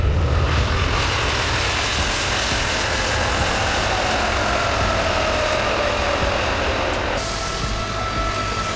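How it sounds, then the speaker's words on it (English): A cargo plane's engines give a loud, continuous low roar with a rising whine running through it, a heavy steady drone that holds for several seconds. "Cargo plane, a plane used to transport goods over long distances."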